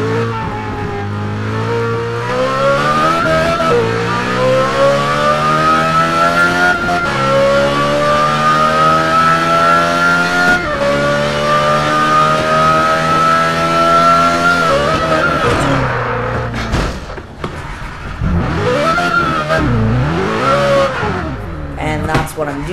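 A car engine in the racing game Test Drive Unlimited 2 revs loudly and climbs steadily through the gears, dropping and surging again near the end with some tire noise.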